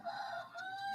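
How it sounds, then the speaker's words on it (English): A rooster crows in the background during a live talk session, one faint drawn-out call under no speech, heard briefly from a distance. "You can hear the rooster probably in the background."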